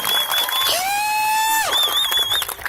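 A loud crowd cheers and whoops at a Marine Corps boot camp graduation at MCRD San Diego, with high shrill whistles and yells rising over a dense roar of voices.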